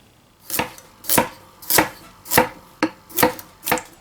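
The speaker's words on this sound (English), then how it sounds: "After chopping them up, we just throw them into the pot." Knife chopping vegetables on a board in steady strokes, about seven sharp chops spaced half a second apart, close and clear with no talking.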